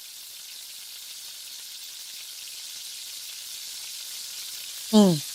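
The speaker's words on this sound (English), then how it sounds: "So I'm putting our festival in our hot frying pan." Festival, Jamaican fried dumplings, sizzle in a hot frying pan as they cook toward golden brown: a steady, even hiss throughout, ending with a brief, louder tonal sound.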